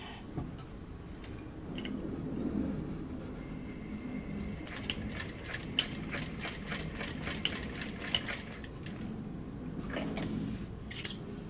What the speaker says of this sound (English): I'm sewing next to that line of stitching and not on it.